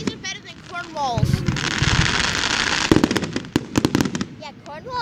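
Lancaster fireworks burst in the night sky: a run of sharp pops and crackles, some close and loud, some further off. Excited people talk and shout throughout.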